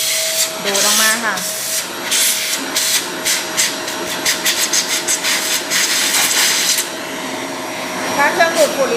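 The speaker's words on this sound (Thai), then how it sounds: "ถ้าเครื่องดูดฝุ่นแรงๆก็จะได้แบบว่า ดูดตรงดูที่ตัวผงกาแฟเขาออกนะคะ" A vacuum cleaner sucks leftover coffee powder out of a Nuova MDX OD coffee grinder, a steady broadband roar with shifting whooshes and rattles running the whole time, while someone speaks over it.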